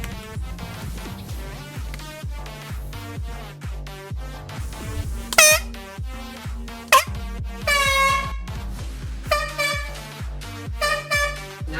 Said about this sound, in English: Let's test this air horn out.